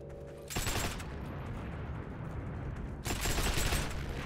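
Two loud bursts of rapid gunfire in a video game tank battle, one at the start and one near the end, separated by a lower sustained rumble.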